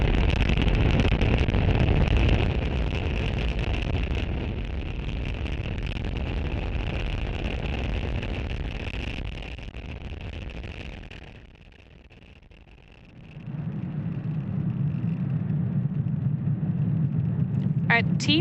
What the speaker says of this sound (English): Falcon 9 has successfully lifted off from Space Launch Complex 40 from Cape Canaveral, Florida